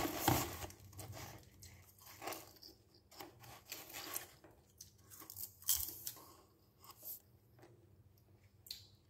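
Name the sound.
eating popcorn, crunching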